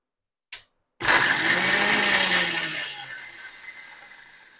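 After a brief click, an electric grinder whirs loudly for about two seconds as it coarsely grinds spices for a raw mango pickle, then winds down in a fading spin.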